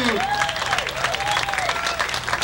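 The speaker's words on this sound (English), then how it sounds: "Give a round of applause, PT." Applause from the crowd at an outdoor surfing hall-of-fame ceremony, a steady wash of clapping filling a couple of seconds, with whistle-like cheers rising over it.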